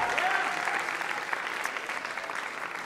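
Sustained audience applause fills an awards night ceremony hall, steady and dense throughout with no break, carrying on at a moderate level as the crowd claps for an honoree.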